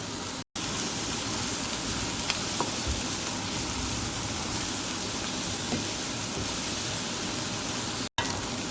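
Sliced cabbage stir-fries in a hot pan with a steady, soft, even sizzle that runs without a break and carries no voices.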